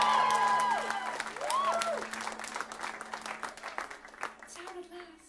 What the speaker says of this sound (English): Have a big cheer for our album.